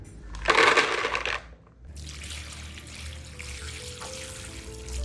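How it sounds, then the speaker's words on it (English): Water splashes and trickles as whole dates are washed by hand in a bowl, a loud rinsing burst early on, then a steady softer running and dribbling of water. "First washing done, now let's quickly wash a second time."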